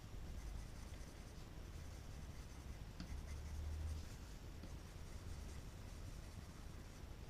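A pen traces small circles on paper with light pressure, making a soft, continuous scratchy rustle, close but faint, with no talking.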